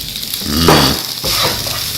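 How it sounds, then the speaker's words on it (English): Green onion is tossed into fried rice in a hot pan, giving a loud burst of sizzle with scraping stir strokes that swell and ease twice over about two seconds. "Now I'm going to add the green onion."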